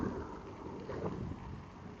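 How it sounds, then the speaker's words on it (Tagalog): Steady heavy rain roars close by in Baguio City with a low, rumbling undertone of thunder, continuous for the whole stretch with no voices. "Grabe, malakas na yung lumalakas yung ulan."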